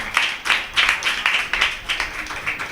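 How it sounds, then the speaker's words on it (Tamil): An audience at a bhajan program claps together in a fairly regular, rhythmic beat, the claps near and moderately loud, with no talking over them. "ராஜேந்திரன் அண்ணா, அவருக்கு ஒரு பெரிய கரகோஷத்தை கொடுத்துருவோம் எல்லாருமா சேர்ந்து."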